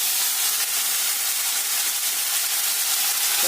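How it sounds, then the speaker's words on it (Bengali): Lote fish (Bombay duck) eased into hot oil with nigella seeds in a kadai, giving a loud, steady sizzling hiss that holds evenly from start to finish with no talking. "এর মধ্যে লোটে মাছগুলো আস্তে করে ছেড়ে দিলাম"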